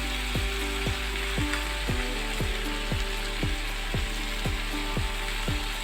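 Vegetables and spinach fry with turmeric and spices in a pan, making a loud, steady sizzle with a regular repeating clicking pulse running through it.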